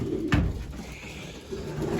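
Racing pigeon cocks coo softly at the loft after a short single toss, low throaty murmurs repeating over a rumbling outdoor background with no talk.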